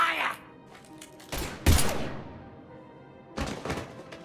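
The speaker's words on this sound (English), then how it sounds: "Now open fire!" Gunfire in the video game Mass Effect 3 comes as two loud, short bursts of shots and thuds separated by quieter moments, with brief voice-like sounds at the very start.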